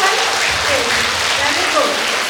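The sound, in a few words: applause at an Independence Day school celebration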